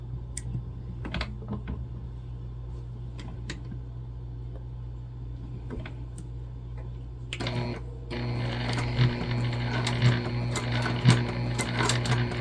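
Scattered clicks and taps give way to a sewing machine stitching the handle of a Zora shoulder bag, its close, rapid mechanical chatter running steadily to the end.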